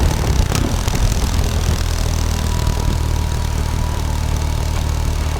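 A motorcycle engine runs steadily, a loud continuous low rumble with a dense mid-frequency drone and no breaks, close by and without speech.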